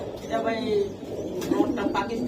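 A Rampuri pigeon coos softly in short low phrases at close range, with a voice talking over it.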